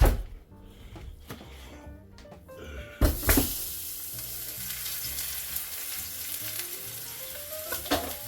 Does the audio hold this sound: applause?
no